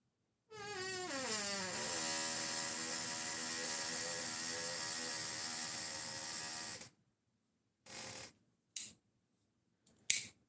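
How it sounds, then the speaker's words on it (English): A squeaky knife gives a long, loud, whining squeal that slides in pitch and holds for several seconds, then a few short squeaks and clicks follow after a pause. "That squeaky knife is going to stay squeaky."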